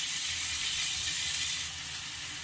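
Onions sautéing in hot oil for a Tamil fish curry, a steady close sizzle with fine crackle that eases slightly toward the end, no voices.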